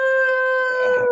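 A dog gives a single sustained, tonal howl, steady and fairly loud, holding one pitch before breaking off abruptly at the end.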